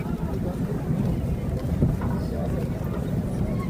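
Steady outdoor wind buffeting the microphone, a constant low rumbling roar filling the whole stretch without pause, with a faint voice buried underneath.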